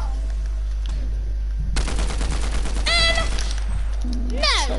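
A rapid burst of automatic gunfire rattles in a video game and cuts in sharply partway through. A steady low hum runs underneath, and pitched electronic tones and vocal sounds come after the burst.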